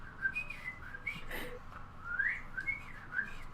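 Soft, faint whistling chirps from a person imitating birds repeat in short bursts, like small birds calling quietly, with a brief rustle midway.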